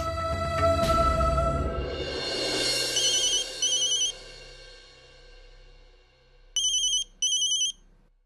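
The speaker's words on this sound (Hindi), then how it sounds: "अजित, हाँ बाबा कहिए, कैसे फोन किया?" A telephone ringtone trilling in repeated bursts, loud and close, first mixed with dramatic music and then in two clean rings after the music fades.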